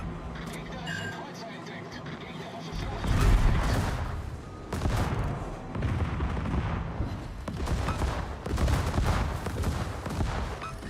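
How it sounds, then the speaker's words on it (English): Naval guns fire in a World of Warships battle: several heavy, booming salvos come in bursts across the stretch over continuous engine and water rumble, with someone talking over the gameplay. "Who's shooting at me with AP?"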